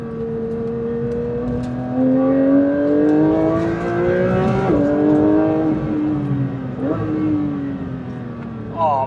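A Porsche 992 GT3 engine revs up with rising harmonic tones, drops briefly as it shifts, then climbs again, loud and close throughout.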